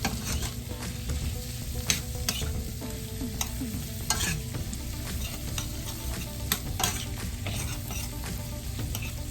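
Green bell peppers and other vegetables sautéing in a pan, a constant sizzle with frequent scraping and clattering from stirring, close and continuous with no speech.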